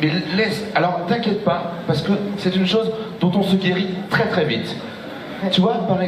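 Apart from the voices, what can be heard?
No everyday noise stands out behind the speech.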